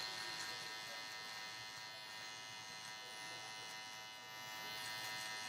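An electric shaver buzzes steadily and closely as it shaves off remaining hair around the ears during a high-taper haircut on kinky hair. The whine is constant and faint, with slight changes in tone as it moves.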